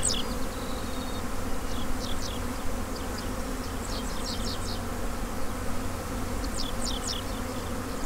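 Honey bees buzz steadily around hives while nucs are moved into full-size equipment, a dense continuous hum filling the air with individual bees whizzing past close by.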